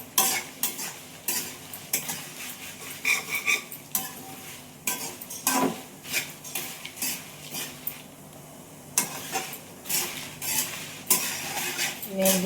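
Red chillies, coriander seeds, fenugreek and cumin dry-roast in a pan on low heat, a spoon scraping and stirring in repeated strokes with light rattling of the spices and metal clinks, close and fairly quiet.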